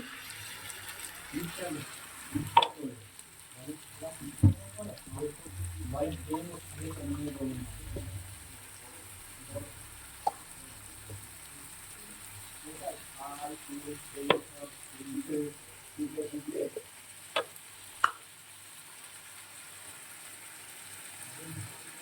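Poppy seeds and chili powder frying in a pan and being stirred, a quiet, steady sizzle broken by occasional scrapes and knocks, with faint voices in the background.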